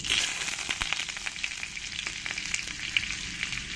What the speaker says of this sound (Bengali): তো এই তেলটাকে আমি ভালো করে গরম করে নিয়েছি। আর এর মধ্যে দিয়ে দেবো আমি বাটার।